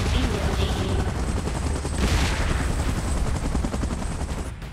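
A helicopter in a Godzilla vs King Kong monster battle, a loud dense rotor chatter mixed with rapid gunfire-like bursts, continuous and close throughout.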